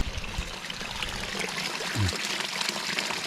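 Water flows steadily along a canal at a campsite in Pang Mapha, Mae Hong Son, Thailand, in a broad, continuous rush and trickle, close by, with no voices.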